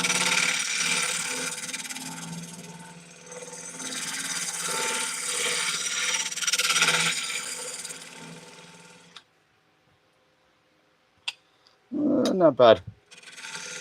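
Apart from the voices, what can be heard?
wood turning on a wood lathe with a skew chisel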